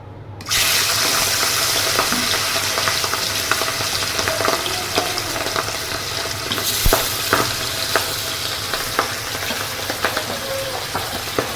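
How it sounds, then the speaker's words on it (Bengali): Rohu fish pieces coated in salt and turmeric drop into hot oil with a sudden burst of loud sizzling, which then holds as a steady crackling fry with scattered pops. "তেল গরম হয়ে গেছে, এইবারে আমি এই নুন হলুদ মাখা মাছগুলো আমি ছেড়ে দেবো।"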